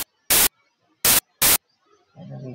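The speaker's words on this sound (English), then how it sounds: "this triple oscillator we're going to turn into some white noise" White noise from the LMMS Triple Oscillator synth fires in three short hissing bursts, two close together after the first, each cut off abruptly into silence, followed by a quieter low tone at the end.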